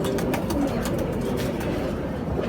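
Pigeons coo softly in a low murmur, with faint rustling around them and no speech.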